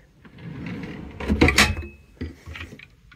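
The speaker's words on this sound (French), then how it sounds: "un tiroir à couvert, un genre de casserolier" A cutlery drawer in a motorhome kitchen slides open with a rattle of cutlery and then shuts with a thump, close by, in a quiet room.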